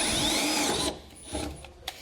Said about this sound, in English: we're going to drill these out.